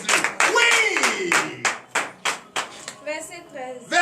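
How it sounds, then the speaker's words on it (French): Congregation applauding in a church during a morning prayer service in Benin, bursts of clapping close by in an uneven rhythm, with voices calling out among the claps. "Donnez l'acclamation à notre Seigneur Jésus."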